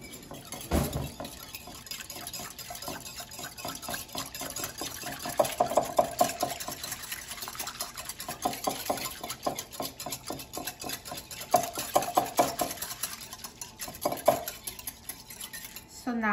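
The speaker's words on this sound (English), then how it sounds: "And now I will mix it until combined and then add the rest of the ingredients." Egg white bites mixture with garlic powder being stirred in a bowl, a utensil scraping and clinking against the sides in a steady rhythm, close and moderately loud, with no talk.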